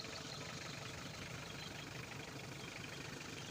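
A 1990 Suzuki Potohar jeep's 2C diesel engine with a double belt idles close by, giving a steady, even rumble throughout with no voices.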